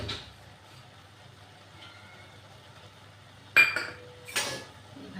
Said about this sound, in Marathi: भाजीला मिक्स करून घेऊ.